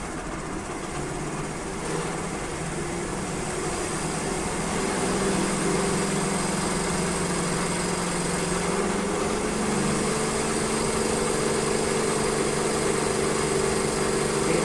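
A DC electric motor, rated at 1750 RPM, runs steadily on a bench speed-control setup, a continuous whirring hum with a faint tonal whine that rises slightly as it spins up, close and unbroken.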